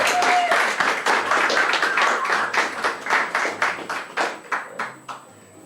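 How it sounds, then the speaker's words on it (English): Audience applause at a zine fest book celebration, a steady burst of many hands that thins into scattered, separate claps and fades out near the end. "one more round of applause"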